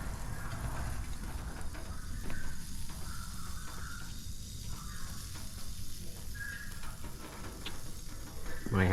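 Lacquer thinner sprays from a pressure pot onto a 1981 Dodge D150 engine being cleaned before paint, a steady close hissing spray that runs without break for the whole stretch.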